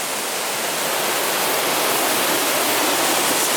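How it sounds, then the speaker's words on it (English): A small waterfall swollen with snowmelt in White River National Forest near Redstone, Colorado, roaring as a dense, steady broadband rush that is loud, close and unbroken, with no voices. "Just decided to stop and check this little waterfall out."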